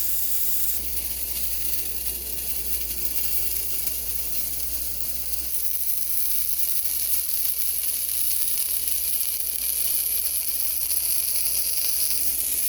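Ground beef for chopped cheese sliders fries on a hot griddle, a constant loud hiss and sizzle filling the whole stretch with a slight shift in tone midway, no talking.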